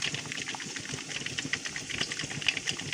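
Cucumbers in glass jars boiling in a pot of water during sterilization for pickling, a quiet, continuous bubbling and rumbling simmer with small irregular pops throughout.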